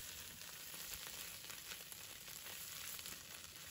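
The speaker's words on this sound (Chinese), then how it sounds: "继续开大火，快速的翻炒一下" Bitter melon and egg, with goji berries, are stir-fried over high heat in a wok, producing a dense, steady hiss of frying that holds evenly throughout at a quiet level without speech.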